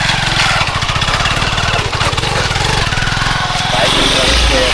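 A motorbike engine labouring up a steep hill road on Parasnath Hill in Jharkhand, a loud, close, rough throbbing drone that holds steady throughout, with a voice speaking over it.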